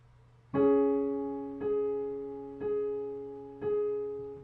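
Four separate piano notes, each struck clearly and left to ring and fade before the next, played slowly and evenly in a quiet room.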